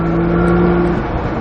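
A Nissan GTR engine at full throttle on a track, a loud steady drone holding a constant pitch, heard from inside the car with no talking.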